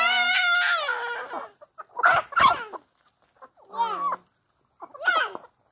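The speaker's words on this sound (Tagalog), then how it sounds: "daily routine namin ni Asyang, pakain ng manok sa hapon at sa umaga." Native chickens being fed in the afternoon cluck and squawk close by in short bursts separated by pauses, with one long call at the start.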